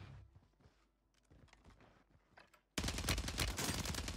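Warzone 3 match with scattered gunshots from an FJX Horus gun, then a sudden loud, sustained burst of rapid automatic fire close by, no talking over it.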